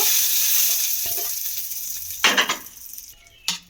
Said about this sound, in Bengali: এবারে আমি চাটনির মধ্যে একটা বাটির মধ্যে ঢেলে নিয়েছি, এর মধ্যে দিয়ে দেব